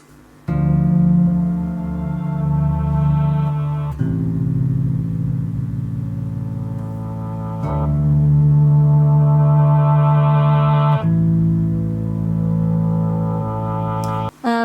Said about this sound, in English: Then from there we're going into the Mel 9, which I use mainly for kind of adding textures.